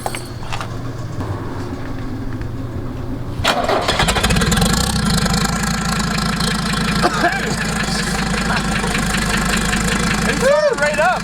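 A Ford F250 with a 6.7 Powerstroke diesel and a newly built turbo cranks and fires on a cold morning of about 20 degrees, then settles into a loud, steady rumbling idle while someone talks briefly near the end.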